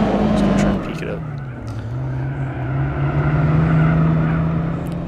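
Engines of AI-driven race cars in Gran Turismo 4 drone steadily, a low sustained pitch swelling and fading as cars maneuver nearby, with a player talking over much of it.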